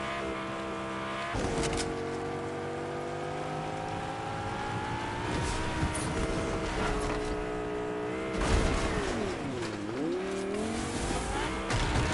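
A car racing around a track in the Fortnite video game: a continuous engine drone that climbs and dips in pitch, with tire squeals and several sharp bumps, loud and close, with faint speech now and then.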